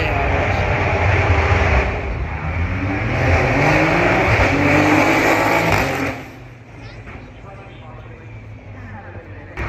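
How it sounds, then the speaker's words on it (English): A 2014 Bentley Continental GT Speed climbs the Goodwood hill, its loud sustained engine roar holding steady for about six seconds before dropping away to a quieter rumble, with talk over it. "2014, the Continental GT Speed, which you're seeing on the screen right now in the back of us, also making its way up the hill"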